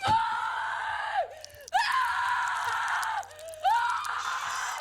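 A woman screams in terror in the horror film Terrifier 3, three long, loud, sustained shrieks broken by brief gasping pauses, with no other voices.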